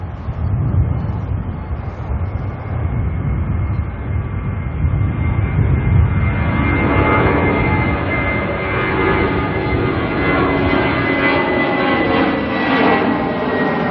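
A jet airliner takes off from Auckland Airport bound for Christchurch, its engines delivering a loud, continuous roar that builds and shifts in pitch as it climbs away. No one speaks.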